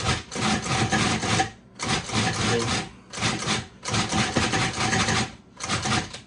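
A food processor pulses to grind drained fish for Moroccan-style fishcakes, making five loud whirring bursts of roughly one second each, split by short pauses, with no talk.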